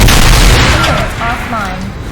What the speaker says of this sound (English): Matthew, lay down suppressive fire.